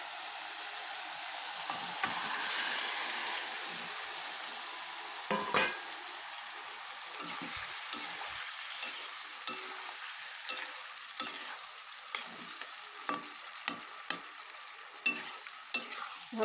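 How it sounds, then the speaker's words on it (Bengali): Potatoes stirred in hot spiced oil in a pan, a continuous sizzle broken by regular scraping strokes of a spatula that grow sharper and more rhythmic toward the end, no voices. "ভালো মতন নেড়ে ফেলে দিচ্ছি।"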